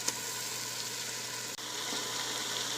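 Potatoes and spices fry for aloo pulao in a pan, giving a steady, close hiss of sizzling oil that holds evenly throughout with one brief dip.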